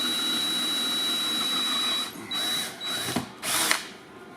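A power drill whines steadily while boring pilot holes through a 2000 Ford Expedition's body for a light bar bracket, then runs in a few short bursts as it breaks through the second wall.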